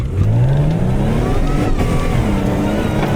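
A 1996 Ford F-350 pickup with a 351 Windsor V8 and automatic transmission roars at full throttle, its engine note climbing steadily as it accelerates, loud and close with constant road and wind rumble.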